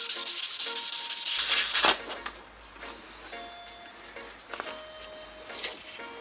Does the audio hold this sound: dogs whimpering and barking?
no